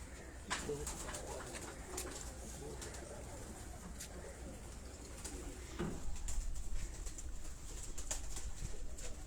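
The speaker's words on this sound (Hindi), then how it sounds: "एक अर्बन टैडी कबूतर हैं।" Urban Teddy pigeons coo softly in a loft, faint low calls repeating under a steady background hum, with a few sharp clicks and taps scattered through.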